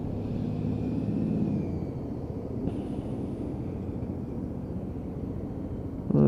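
A Lexmoto Titan motorcycle idling steadily during a ride test, a low even engine rumble heard from the rider's position with wind noise, holding constant for several seconds before a louder burst at the end.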